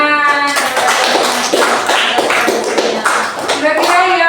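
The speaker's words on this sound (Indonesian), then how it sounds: "Tepuk tangan." A classroom of students claps together in a loud, steady burst of applause that fills the room, with voices chattering underneath.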